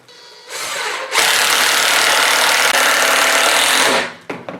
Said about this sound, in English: Just going to drive another screw in from the top